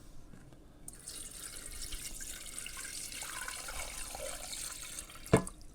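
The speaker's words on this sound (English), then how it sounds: "Let's go ahead and pour some water in." Water pours from a small pitcher into a container as a soft, steady splashing trickle that runs for several seconds and ends with a brief louder splash, close by and quiet.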